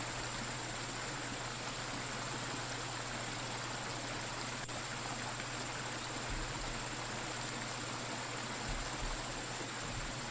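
Flowing stream water in the video game BugOut, a steady broadband rushing wash that holds constant throughout, even and moderately quiet, with no talk.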